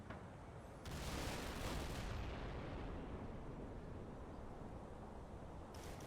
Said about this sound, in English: People are shooting at that half-track.